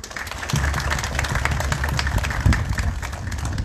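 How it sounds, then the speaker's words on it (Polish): Outdoors at a volunteer fire brigade ceremony where vehicles are handed over, a crowd claps in a steady, dense patter for several seconds, with a low engine hum running underneath. "Prosimy o brawa."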